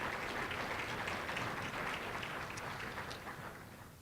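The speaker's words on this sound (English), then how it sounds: "Please join me in giving all of our sponsors and community leaders a big warm welcome and a round of applause for their support" Dinner-hall audience at the United Way of Tri-County Shining Stars Celebration applauding sponsors and community leaders: a steady, dense wash of many hands clapping, fairly faint, tapering off toward the end.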